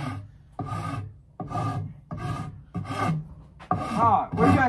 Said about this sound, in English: Alright, we got this sanded pretty much